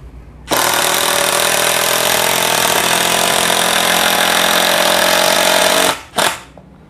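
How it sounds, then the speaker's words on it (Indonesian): Impact driver sinking an 8 cm screw without a pilot hole into solid teak, a loud continuous rattling hammer-drive for about five seconds, then a short final burst before stopping. "Penyekrupan tanpa pengeboran pada kayu solid jati Belanda."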